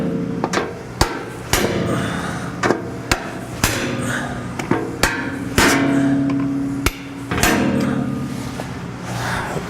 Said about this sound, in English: Grab my hammer, and we'll give this thing a tug.